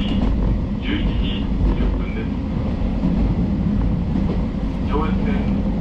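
A train rumbles steadily into track 4 of a Japanese station, a low continuous roar of wheels and carriages, with faint Japanese platform announcements over it.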